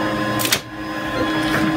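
A 3D printer running at full power on battery backup, a continuous mechanical whir and hum with a brief louder hiss-like burst near the start, steady and close.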